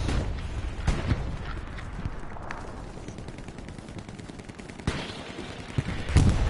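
Sniper gunshots in the video game Hell Let Loose: several sharp, separate cracks spaced a second or more apart over a steady rumbling battlefield background, with no voices.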